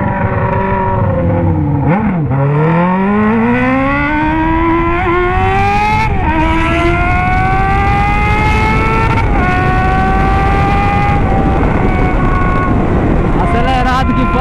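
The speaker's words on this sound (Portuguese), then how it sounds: "Apressado pra acelerar essa moto." Honda Hornet motorcycle engine revving hard and close, pitch sweeping up through rising harmonic climbs and easing back between throttle blips, loud and continuous throughout.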